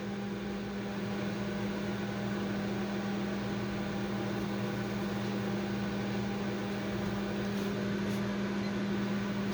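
A microwave oven with its light out runs on a Bluetti AC180 power station, giving a steady loud mechanical hum with a low electrical drone that continues unchanged for nearly ten seconds.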